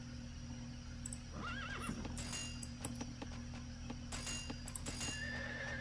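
Horses neighing in a real-time strategy video game match, with Mongols and Turks facing off, a rising-falling whinny near the start followed by clip-clop hoof clicks and sparse game effects over a low steady hum.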